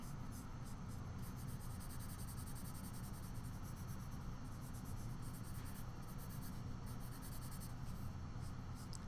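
Drawing and smudging on paper during a fabric texture study gives a faint, steady dry scratching and rubbing that runs continuously in a quiet room.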